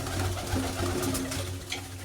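Flying pigeons kept in pens coo softly and repeatedly, low throaty calls close by with faint background noise.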